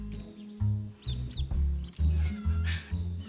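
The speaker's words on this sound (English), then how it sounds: "You're a cute little duckling." High, thin peeps from a duckling, a few short chirps over low thumping handling noise close by.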